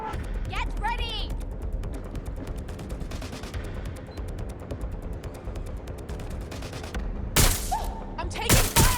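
Gunfire in the video game Watch Dogs: Legion, rapid repeated shots rattling steadily under game dialogue, ending in a few louder close bursts.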